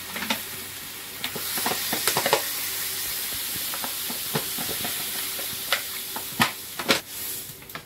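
Spice paste for a pumpkin curry sautéing in a pan, with a low continuous sizzle broken by sharp scraping and stirring strokes of a spoon against the metal, several louder knocks near the end.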